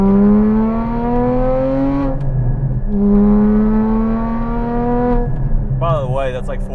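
A 2016 Porsche Cayman GT4 engine revs at partial throttle: two long, loud climbing pulls, each with a short drop between, then a brief blip at the end, with steady road rumble underneath.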